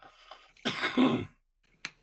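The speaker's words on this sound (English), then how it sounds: "I've got a bit of a cough" A single sharp cough bursts out, close and loud, followed by a short pause and a brief throat sound at the end.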